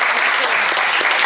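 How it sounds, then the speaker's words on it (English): Steady, dense applause from a wedding audience fills the moment after a speech, continuous and fairly loud throughout with no pauses. "So I'd like a round of applause for them as well"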